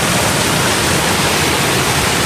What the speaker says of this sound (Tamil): இங்கே பாருங்கள் தண்ணி சும்மா மஜாவாக இல்லை.